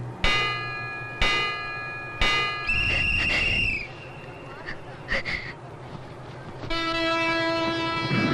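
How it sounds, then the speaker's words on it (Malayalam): Kanyakumari–Bangalore Express departing platform 1 of an Indian railway station: three sharp tonal blasts, then a longer loud horn, with rumbling carriages, brief squeals and a steady chime-like tone toward the end. "train number 6526 Bangalore bound Kanyakumari Bangalore express leave from platform number 1 shortly"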